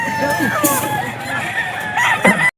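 Roosters at a gamecock pet market in Bocaue, Bulacan crow close and loud, with a long drawn-out call and overlapping clucks and other fowl, while people talk in the background.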